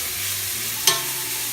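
Pork browns in a wok on an induction cooktop, a soft steady sizzle with a single sharp metallic scrape or clink near the middle, close and alone.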